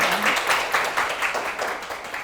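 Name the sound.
audience applause after a lecture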